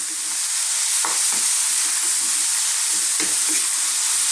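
Chickpeas and mushrooms fry in a pan for an Indian cumin-spiced vegan dish, a loud continuous hissing sizzle with a few low scraping stirs, close and without speech.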